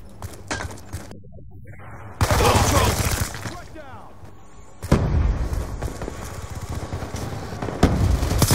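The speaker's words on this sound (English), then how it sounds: "I'm using the M27 with the target finder" M27 rifle gunfire in the video game Call of Duty Black Ops 2 during team deathmatch, loud bursts of rapid shots in several volleys separated by quieter gaps, with game sounds and occasional voice in between.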